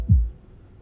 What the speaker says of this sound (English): can you hear my heartbeat?